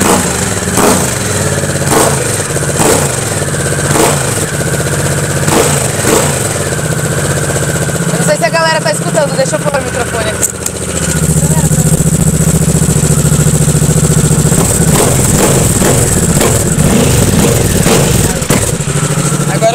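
A Harley-Davidson Sportster S motorcycle engine, fitted with a 280 rear tyre, runs loudly nearby with a lumpy idle and short revs, while someone speaks briefly over it.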